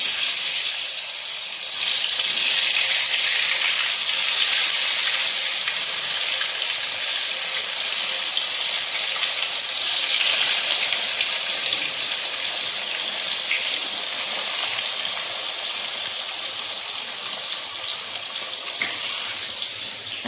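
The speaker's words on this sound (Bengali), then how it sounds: "বেগুনটা ভেজে নিই প্রথমে।" Eggplant fries in a pan with a steady, broadband hiss that holds at an even level for about twenty seconds, close and unbroken, with no talking.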